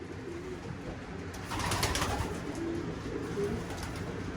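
Racing pigeons coo softly in the cock side of a loft, low throaty calls repeating under a steady rustle of background noise, nearby and moderately quiet, with no talking.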